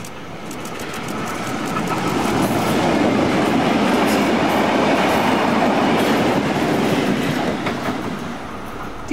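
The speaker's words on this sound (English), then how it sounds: "the train races through the outskirts of Elsternwick on its way back home to Newport" A vintage Tait electric suburban train rumbles past at close range in Elsternwick, a steady loud roar of wheels on rails with faint rhythmic clatter, swelling in and holding for several seconds.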